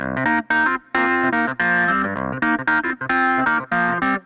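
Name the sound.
funk clavinet software instrument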